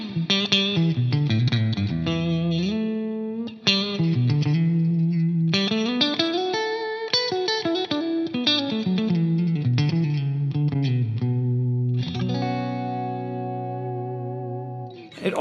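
A clean-toned electric guitar with added sustain plays chords and melodic lines in front of an amp, notes ringing out smoothly and long with slight effects coloring, alone without talking.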